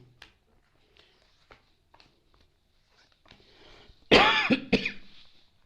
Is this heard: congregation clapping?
no